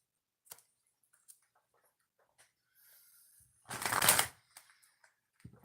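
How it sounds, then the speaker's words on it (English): Tarot cards get shuffled in one brisk, rustling riffle near the end, preceded by faint soft taps and handling ticks in an otherwise quiet room. "Two shuffles before we do the bonus reading"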